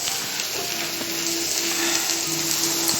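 Veg lollipops frying in hot oil in a pan as they are turned over, giving a steady close sizzle and crackle throughout with no talk.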